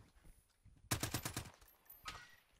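A quick burst of about half a dozen gunshots in the video game Warzone, sharp and fairly close, followed by a faint single shot, over quiet background with a little voice.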